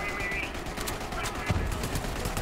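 Borderlands 3 infinite-ammo gun held on full-auto fire, a steady stream of rapid gunshots running throughout at moderate loudness, mixed with other game sounds and a louder burst midway.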